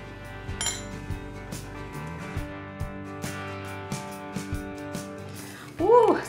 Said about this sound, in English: we're gonna give this a whisk and see if we need anything else